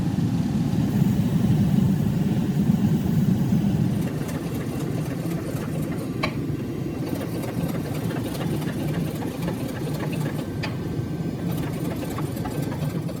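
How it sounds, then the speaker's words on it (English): A hydraulic press forge welds a layered Damascus steel billet: the press motor and pump give a steady droning engine-like rumble that eases a little partway through, with occasional faint clicks on top. "forge weld all the layers of steel together using the power of my hydraulic press"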